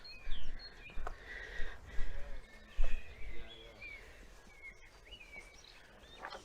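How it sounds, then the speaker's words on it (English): Birds sing and chirp in a small orchard in Wiltshire in May, with scattered bright calls and trills near and far over a low background rumble. "Oh, just listen to the birds."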